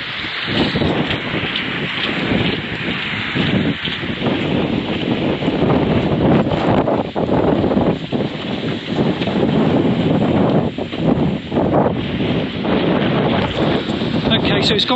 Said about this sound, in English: it's gone from torrential to just very blowy and a little bit of wetness